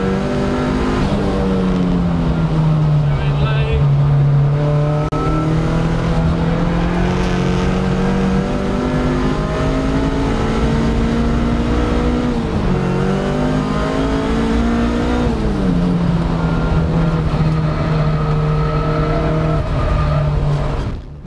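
A BMW E36 M3 race car at Snetterton, engine loud and close, holding a sustained droning note that dips and climbs again through gear changes. No voices are heard.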